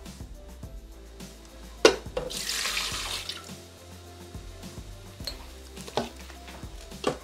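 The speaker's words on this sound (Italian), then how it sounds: "Mettere nel boccale la vodka." Vodka pours into a Thermomix bowl as a steady, close liquid stream lasting a few seconds, with light clinks and knocks of the container before and after.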